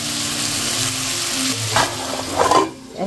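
Marinated, spice-coated meat sautéing in a pan with salt just added, a continuous loud sizzle with scraping stir strokes and a few brief bubbling bursts near the end before the hiss drops away.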